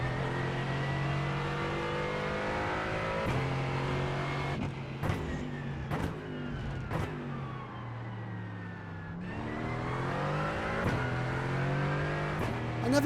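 Mercedes GT4 race car engine in iRacing at Portimão, a steady high-revving drone with repeated gear shifts and throttle lifts, loud and continuous with no talk over it.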